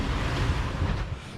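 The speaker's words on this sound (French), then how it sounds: "C'est une mer avec des grosses vagues" Big ocean waves surge and rush around a sailboat at sea, a dense continuous roar mixed with wind noise and no voices.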